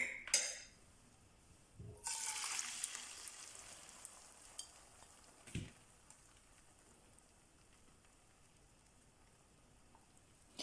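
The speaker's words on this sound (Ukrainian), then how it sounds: "Розігріваємо сковорідку та додаємо трішки рослинної олії. Сюди ж переміщаємо всю яєчну масу." A quiet sizzle of an egg mixture frying in a pan with vegetable oil, with a burst of crackling and a few utensil clinks against the pan.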